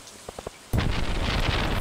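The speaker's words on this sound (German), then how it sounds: "Oh, sogar mit Gewitter." Thunderstorm with rain in the video game Stardew Valley: a few soft taps, then a sudden loud crack of thunder rolling into a dense rumbling wash of rain and storm noise.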